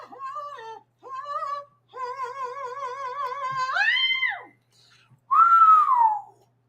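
Someone whistles a short tune with warbling notes, a few brief phrases separated by pauses, ending in a louder sliding note.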